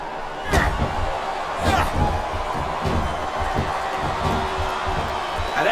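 Arena crowd in the SmackDown vs Raw 2007 wrestling game, a steady roar of noise with loud thuds and slams from the ring breaking through repeatedly.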